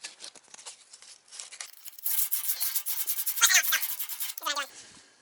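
Rough, raspy scraping of abrasive against copper pipes, starting soft and growing louder in quick repeated strokes, close up with no talking.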